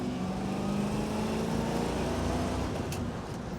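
The 327 V8 of a 1962 Chevrolet Corvette convertible pulls in second gear on the road, a steady low engine drone under wind and road noise, heard from inside the car and fairly quiet.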